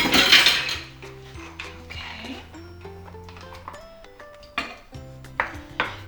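A metal pot and trivet clatter into a kitchen sink, with ringing, bell-like metallic tones that decay, followed by a few sharper clinks, close by and with no talking.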